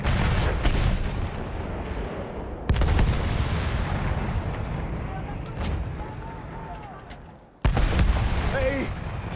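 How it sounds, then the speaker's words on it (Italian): Enemy artillery cannons booming in Battlefield 1 during a battle for an objective, heavy loud blasts at the start and again near the end over dense, continuous gunfire and battle noise, with voices shouting at times. "Là ci sono dei cannoni nemici!"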